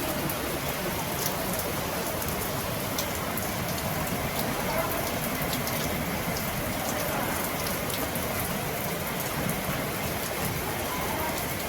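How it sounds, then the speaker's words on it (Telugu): Heavy rain pours steadily, drumming on surfaces in a dense, unbroken hiss that stays loud and even throughout, with no other clear sounds above it. "భయంకరంగా వస్తుంది వాన మాత్రము"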